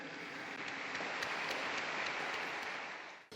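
Steady crowd applause for nurses and volunteers, called for by Pope Francis, a sustained wash of many hands clapping at a moderate distance for a few seconds before it cuts off, with no voices over it.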